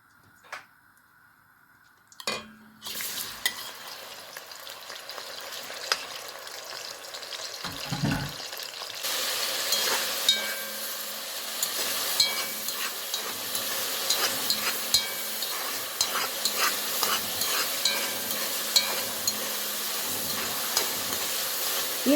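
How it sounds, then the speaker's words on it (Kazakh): Meat goes into a pot of hot oil left from frying noodles and is stirred, starting quiet with a few knocks and then building into a loud, dense, continuous sizzle with scraping stirs, close and without talk. "Етін жақсылап қызартып қуырып аласыздар."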